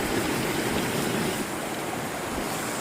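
A strong river current rushes in a loud, continuous wash of flowing water, close and steady with no talk over it.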